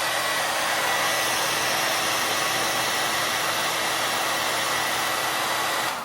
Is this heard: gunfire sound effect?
no